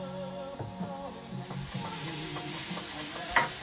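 Oyster sauce is tipped into a lo mein noodle stir-fry, bringing a soft sizzle and clinking, scraping stirring under a low tonal background hum, with one sharper hiss near the end.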